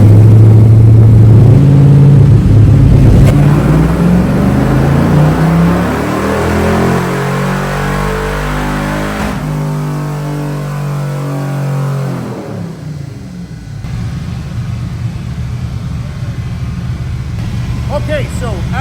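An LS V8 engine swapped into a Nissan 240SX drift car runs loud on a dynamometer, rising in pitch through a long sustained pull before dropping back and carrying on rumbling, with talk over it.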